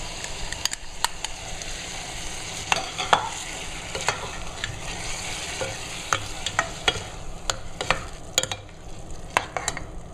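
Tomato juice poured into a hot pan over high heat for a yellow tomato sauce sizzles steadily while a spoon stirs, giving a continuous frying hiss broken by sharp scraping clicks, with no talking.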